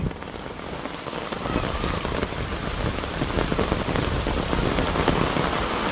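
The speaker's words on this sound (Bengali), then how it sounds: "ও বাবারে বৃষ্টি রে।" Heavy rain pours onto surfaces in a Bangladeshi village, a dense, steady, loud wash of droplets that swells slightly after the first second and continues unbroken, with no talking.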